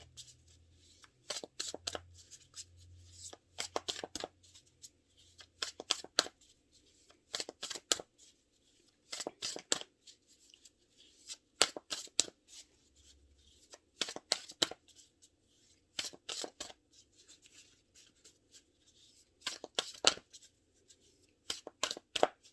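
Tarot cards being shuffled in repeated crisp bursts, each riffle a quick clattering flurry separated by short pauses, close and clear with no speech.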